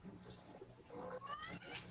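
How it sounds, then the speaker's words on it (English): A cat meows faintly in the background, with a few soft, rising calls and no one talking over it. "Is that a kitty cat?"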